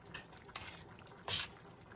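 A spoon stirring freshly grated cheese into Cajun chicken and shrimp Alfredo in a pan, giving two or three soft scraping, squishing strokes against the metal, quiet and close.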